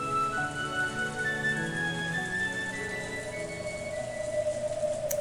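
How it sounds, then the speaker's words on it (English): Cold rain beating down in a scene from the Umineko visual novel, a steady wash of rainfall running beneath tonal background music throughout. "the cold rain still beating down on him"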